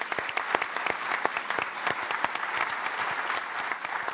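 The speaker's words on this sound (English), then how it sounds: "I'd like to give a big round of applause to the Detroit Regional Chamber" At a Michigan policy conference on Mackinac Island, a large audience gives a busy round of applause with many sharp individual claps standing out in a steady, moderately loud crowd sound.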